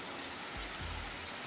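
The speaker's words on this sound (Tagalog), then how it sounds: "Sobrang lakas talaga ng ulan dito ngayon oh." Heavy rain pouring onto a road, a loud, steady hiss throughout, with a brief low rumble from a passing vehicle in the middle.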